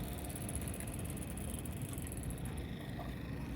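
Engine of a 1920s Indian racing motorcycle running steadily at idle, a continuous low throbbing drone with an even mechanical rumble, close and moderately loud with no voices.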